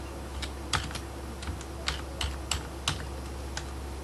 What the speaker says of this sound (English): so I type in my username